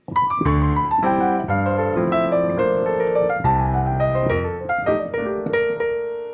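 Jazz piano playing rhythm changes with sus chord voicings at a steady, unhurried pace, full voicings with bass notes underneath and a melody line on top, no voices.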